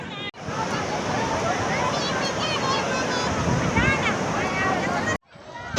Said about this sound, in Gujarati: આ મોજું ઉપર એક મોટું મોજું બન્યું છે